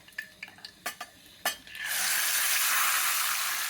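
Cashews and ginger garlic paste are being fried in a pan for rajma chawal. A few clinks of a spoon against the pan come first, then a loud, steady, close sizzle rises and holds.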